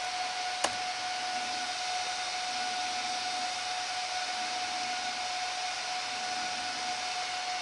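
A washing machine motor runs at a set speed, producing a constant high whine over a broad airy hiss, with one sharp click early on.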